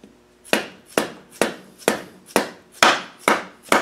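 A soft hammer taps a gear into place on an O-ring during a Land Rover LT230 transfer case intermediate gear rebuild: eight sharp, evenly spaced knocks, close and fairly loud, with no talking.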